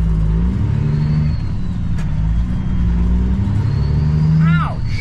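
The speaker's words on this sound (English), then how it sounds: "Why would you miss your gear like that?" A truck engine drones loudly and steadily inside the cab after a missed gear shift, its low rumble holding with slight pitch swings and a brief rising whine near the end; a voice talks over it.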